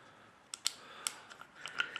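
A plastic clip snaps into the groove on the cap of an ozone recirculation system for well water, giving a few crisp, close plastic clicks over a faint hiss, with no talking.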